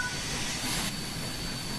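A steam locomotive in the Train Sim World video game gathers speed with a steady, loud rumbling roar and hiss that stays constant throughout, with no talking.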